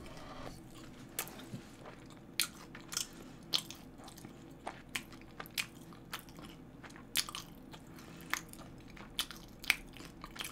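Repeated crisp bites and crunchy chewing of spicy crispy fried chicken close to the mic, sharp crackles spaced every second or so against a quiet room.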